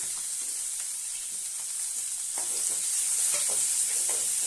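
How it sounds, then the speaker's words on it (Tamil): Steady sizzling and hissing of chopped onions frying in a hot pan for Tamil karamani kai kootu, with occasional soft stirring scrapes, close and continuous. "இப்போ கட் பண்ணி வச்ச வெங்காயத்தையும் சேர்க்குறேன்"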